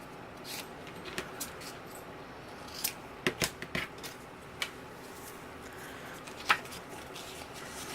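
Scissors cut paper card-making hinges to size, with a brief cluster of crisp close snips in the middle and a few scattered cuts elsewhere, all alone with no talking.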